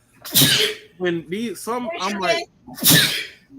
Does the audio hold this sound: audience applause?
no